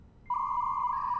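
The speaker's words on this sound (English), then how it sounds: "Ah, the modem sound." A dial-up modem in the video game Thimbleweed Park emits a steady high electronic tone that starts abruptly after a short quiet moment and holds, with faint added harmonic tones joining near the end.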